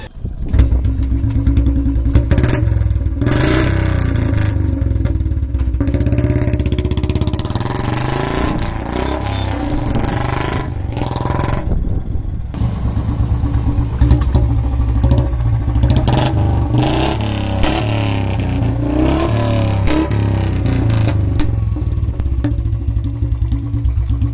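A Royal Enfield Classic 350 fitted with a free-flow L-bend exhaust pipe: a loud, close, deep thumping engine note that rises and falls through repeated revs over a steady idle, with no talk over it.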